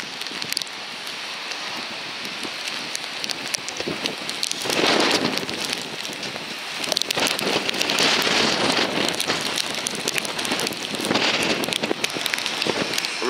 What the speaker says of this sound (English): Sheets of rain.